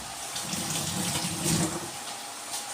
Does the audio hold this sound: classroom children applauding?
no